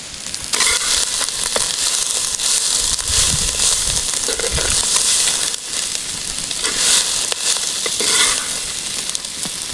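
Drumstick leaves with tamarind sautéing in a pan, a steady broadband sizzle throughout with a few louder stirring scrapes, close and continuous with no talking.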